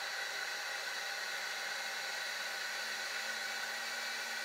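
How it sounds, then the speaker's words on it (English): A VEVOR 3 kW spindle motor spins at full speed while lying loose on a wooden panel, giving a steady, smooth high-pitched whirring hiss with a faint low hum and no change in pitch or level. "accelerating slowly to the maximum speed, almost no vibrations can be detected on the motor case"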